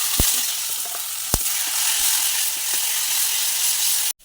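A ground spice paste is added to hot oil with fried chopped onion and whole cumin in a pan. It gives a loud, continuous frying hiss, with a few sharp clicks from stirring, and cuts off abruptly at the end.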